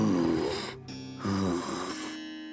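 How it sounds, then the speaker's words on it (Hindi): Eerie heavy breathing in a Hindi horror story, a few long rasping, snore-like breaths rising and falling over about two and a half seconds, close and fairly loud with brief gaps between them. "तभी उन दोनों को किसी के सांस लेने की भयानक आवाज सुनाई दी"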